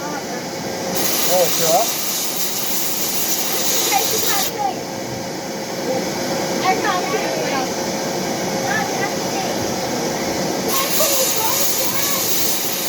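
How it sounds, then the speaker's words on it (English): An air-powered buff wheel running off a compressor gives a steady loud hissing whir that swells and cuts out in stretches. A voice speaks briefly over it. "chuck the buff wheel on"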